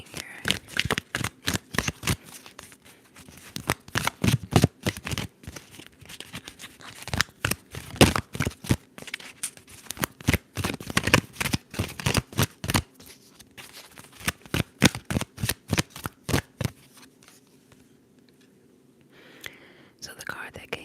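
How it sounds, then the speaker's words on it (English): A Sibyl's Oracleum tarot deck being shuffled up close, a long sequence of rapid riffling bursts with brief pauses between, with soft whispering in places and quieter handling of the cards at the end. "Let's shuffle, shuffle, shuffle."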